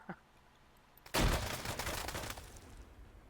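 A grenade goes off in the Arma 3 video game with a sudden loud blast, followed by sustained crackling gunfire that stays dense for a couple of seconds and then thins out.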